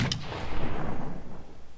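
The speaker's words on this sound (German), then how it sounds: "Das heißt, ich kann dreimal mit schießen." Revolver fire in the video game Dead State: Reanimated: a loud, close shot at the start followed by a booming, rumbling decay that fades over about two seconds, with no voice.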